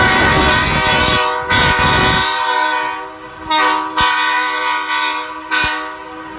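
A powerful marine air horn fitted to a vehicle blasts a loud, sustained multi-tone chord, then sounds in several shorter toots with brief gaps between them, close and dominant with no talking.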